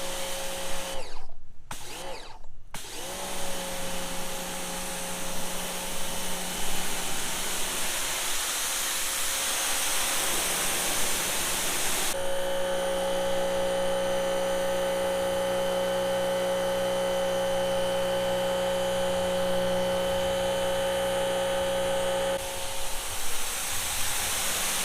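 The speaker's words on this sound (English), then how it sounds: "you can see how well this pressure washer works" A WHOLESUN 3,000 PSI 2.4 GPM electric pressure washer spraying a concrete sidewalk outdoors, a steady loud hissing spray with a motor whine, briefly broken near the start, then continuing with a shift in tone partway through.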